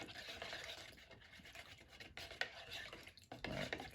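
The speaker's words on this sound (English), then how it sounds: "I'm stirring, I am not shaking." Oil-based polyurethane stirred in a container gives a quiet, continuous scraping and swishing, with irregular strokes and a slightly louder scrape near the end.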